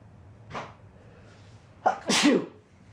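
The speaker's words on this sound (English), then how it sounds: "We're gonna have one of me sneezing in about 5 seconds." A single person sneezes loudly, preceded by a short inhaling catch, in an otherwise quiet room.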